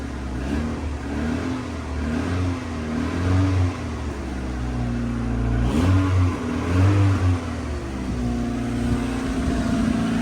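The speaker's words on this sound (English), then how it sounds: "Let's give her some additional revs, just to speed up the heating process." A Rover Streetwise with a K-Series engine is revved on a cold, icy start; the motor is blipped repeatedly in rising and falling surges over a steady idle, close and moderately loud.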